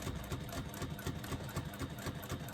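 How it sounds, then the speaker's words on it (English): A sewing machine runs a second reinforcing line of stitches, a fast, steady, even rattle of needle strokes heard close up without pause. "second line of stitching to reinforce the first line"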